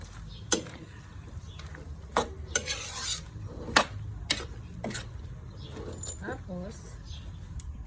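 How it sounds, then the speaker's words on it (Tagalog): Pancit canton noodles are stirred in a pan with a utensil, giving a run of sharp scraping clacks and clinks at irregular intervals over a low sizzle. "Ayan, haluin natin."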